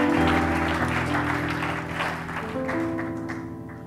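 Church congregation applauding steadily for a few seconds, dense clapping at fairly close range with a sustained musical tone underneath, fading slightly toward the end.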